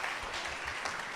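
Congregation applauding at a Spanish-language church service, a short burst of dense, steady clapping that fills the room at a fairly quiet, even level.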